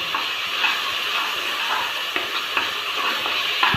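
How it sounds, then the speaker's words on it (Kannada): Onions roast in a pan with ginger, garlic, green chilli, coriander paste and garam masala for a chicken masala gravy, giving a continuous close, even sizzle with occasional soft stirring clicks. "ಈರುಳ್ಳಿ ಎಲ್ಲ ರೋಸ್ಟ್ ಆಗ್ತಾ ಇದೆ ಫ್ರೆಂಡ್ಸ್"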